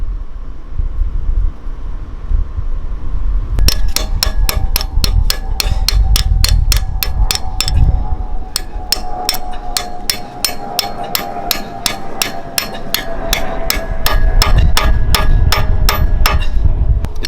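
A bolt is hammered into a pilot bearing bore packed with bread, driving the bearing out. A run of sharp, evenly spaced metallic strikes, loud and close, begins after a few seconds of quiet and continues in steady bursts.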